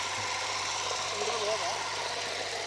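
A homemade mini John Deere 5405 replica tractor engine runs in reverse gear at a steady mid-pitched drone, close and continuous throughout, with a faint knocking undertone.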